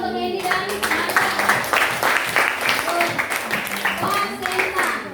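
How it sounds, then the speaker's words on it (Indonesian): Applause breaks out in a classroom lesson on the placenta, scattered hand claps running steadily under a teacher's voice and children's chatter, close and moderately loud throughout. "Tepuk tangan untuk Candy dan Marda."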